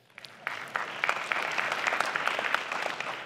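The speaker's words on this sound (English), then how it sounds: "So an applause to BIMobject for that." An audience at a BIMobject LIVE 2017 seminar breaks into applause that swells quickly from silence into a steady, moderately loud patter of many hands.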